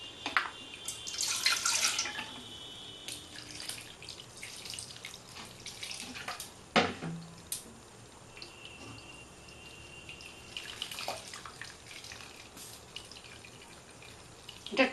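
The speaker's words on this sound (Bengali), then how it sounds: "এতে একটু আমি ঠান্ডা জল দিয়ে নেব" Cold water pours over freshly strained chhena for Bengali-style rosogolla, a soft running splash like a tap with a few louder splashes and drips, heard close and faintly against room quiet.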